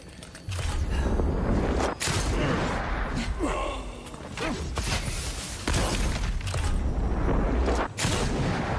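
Pistol gunfire in a video game: repeated loud sharp shots fire in bursts over dense game effects and rumble, with speech faintly mixed in.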